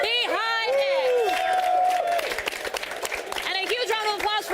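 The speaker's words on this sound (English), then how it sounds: "a huge round of applause" Applause and cheering from a crowd at an Age of Empires announcement event, a continuous roar of clapping running under a strained, shouting voice.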